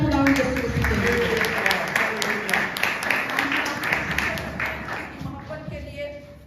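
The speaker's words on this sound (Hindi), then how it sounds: "आइए जोरदार तालियां खुदा यीशु मसीह के लिए" Church congregation applauding for Jesus Christ, a sustained wash of many hands clapping that fades gradually, with a speaker's voice and music-like tones running underneath.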